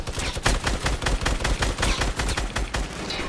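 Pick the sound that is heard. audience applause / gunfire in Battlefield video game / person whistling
gunfire in Battlefield video game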